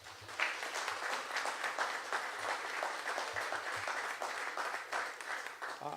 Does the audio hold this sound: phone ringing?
no